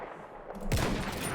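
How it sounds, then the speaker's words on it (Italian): Gunfire in Battlefield 1, a sharp shot bursting in after a brief lull and rolling away in a long echo across a valley, loud and close. "Come rimbomba lo sparo nella vallata."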